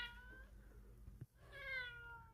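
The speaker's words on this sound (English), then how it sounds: "we decided to record her meowing and put it in one of them" A cat meows twice, a longer drawn-out call followed by a brief pause and a second rising meow, close and fairly clear.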